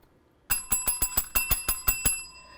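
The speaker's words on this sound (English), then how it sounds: "we just heard the CynCity bell. That's our 2-minute warning" A small bell rung as a two-minute warning on a live show gives a quick run of about ten bright, loud dings, close and ringing alone after a moment of silence.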